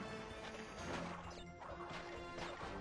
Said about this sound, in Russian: Так, продолжаем бить коробки.